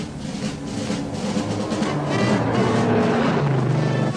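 1971 AMC Javelin with a 401 V8 pulling hard away from the line, a loud engine roar that builds steadily in volume as the car accelerates, heard alone without speech.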